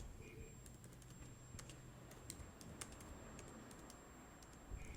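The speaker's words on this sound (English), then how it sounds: "Typing with one hand." Soft, irregular clicks of typing on a computer keyboard, fairly quiet over a low background hum.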